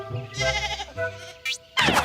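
A cartoon sheep bleats several times in a dubbed Sinhala animated series, loud, wavering calls in short bursts separated by brief pauses, with no talking over them.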